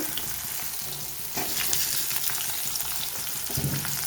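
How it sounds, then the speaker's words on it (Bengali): Potatoes and carrots frying in a pan for a mixed vegetable dish, giving a loud continuous sizzle with occasional stirring scrapes and no voices. "আলু, গাজর, যেগুলো যেগুলো শক্ত, যেগুলো সেদ্ধ হতে একটু সময় লাগে সেগুলো আগে ভেজে নেব"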